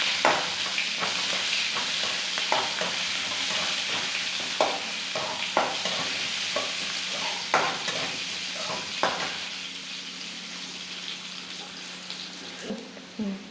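Onions frying in a pan for a sardine curry, a steady close sizzle with repeated scraping and tapping of a utensil against the pan as they are stirred, fairly even throughout with no talking.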